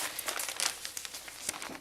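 Thin plastic bags are handled and cut up at a desk, giving close, soft crinkling and rustling with scattered sharper crackles, quiet and continuous with no talking.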